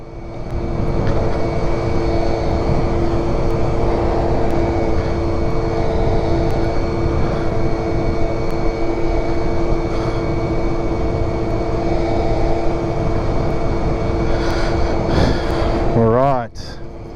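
A prebug Yamaha Zuma scooter with a modified variator climbs uphill, its small engine droning loud and steady with rushing wind noise throughout, shifting in pitch just before the end.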